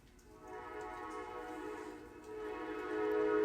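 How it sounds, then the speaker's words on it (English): A passing train sounds nearby, a sustained droning horn-like tone with layered harmonics over a rumbling roar that swells steadily louder toward the end. "there's a train coming and it gets very loud"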